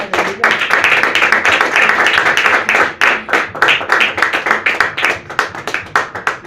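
Congregation at a church service breaking into sustained applause, dense clapping from many hands filling the room, loud and continuous before thinning into scattered claps toward the end.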